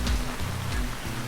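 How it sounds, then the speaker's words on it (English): A heavy rain squall pours down on a sailing boat at sea during an ocean passage from New Zealand to Fiji, a dense, close, continuous drumming of water. "Some like this, just like a monsoon bucket of rain."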